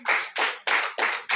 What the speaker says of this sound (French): Tu vas applaudir encore pour le Seigneur.